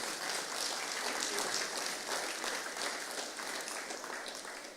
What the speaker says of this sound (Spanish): Dele un aplauso fuerte al Señor.